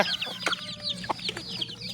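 Native chickens crossed with fighting-cock stock cluck busily at close range during evening feeding with unhusked rice, several overlapping short calls and chirps in quick succession.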